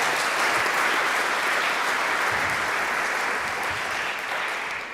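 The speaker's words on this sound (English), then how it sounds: "So another round of applause for all the adult leadership." An audience claps steadily for adult scout leaders at an Eagle Scout ceremony, a dense, sustained wash of applause that holds level before tapering slightly at the end.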